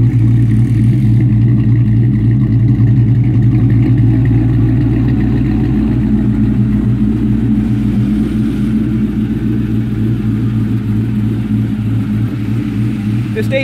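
Ford Mustang GT with a 4.6 2V V8, stage one cam and loud aftermarket exhaust idles cold with a lumpy, slightly raised idle, a loud, close, deep rumble held steady with a few mild swells.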